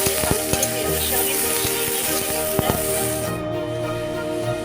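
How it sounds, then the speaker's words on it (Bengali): Small cut pieces of okra fry in hot oil in a pan, giving a steady bright sizzle with a few stirring knocks and scrapes, before the sizzle drops away near the end. "দেখো ভেন্ডি ভাজাটা হয়ে গেছে"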